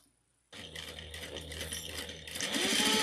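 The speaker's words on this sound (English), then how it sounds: "We're going to sew 1/4 of an inch." Sewing machine stitching a quarter-inch seam. After a moment of silence it starts with a quick rattling mechanical whir, close and steady, and speeds up toward the end.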